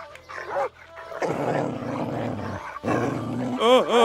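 Several dogs bark and growl aggressively in loud, overlapping bursts, with a whining yelp at the end.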